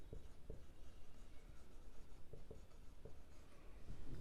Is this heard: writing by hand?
yes